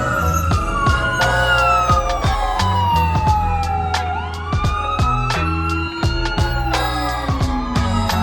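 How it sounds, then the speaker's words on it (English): A loud emergency vehicle siren wails up and down continuously, close by on a New York City street, punctuated by sharp repeated clanks and knocks. "I had to wait until the siren was finished."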